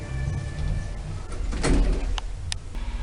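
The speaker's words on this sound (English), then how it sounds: "Going up, doors closing." Sliding doors of a small hydraulic Schindler S Series lift in a shopping arcade shutting, a rumbling mechanical slide swelling midway with a couple of sharp clicks and knocks near the end, loud and close, no voices.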